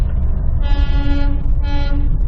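The Darjeeling toy train at night, running through town, gives two loud, close whistle blasts, each held for about half a second, over a low rumble of wheels and engine.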